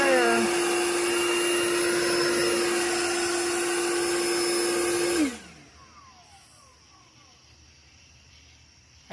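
A Worx Nitro 40 volt electric lawnmower runs on turbo with a loud, steady high-pitched whine for about five seconds, then spins down and fades to near silence.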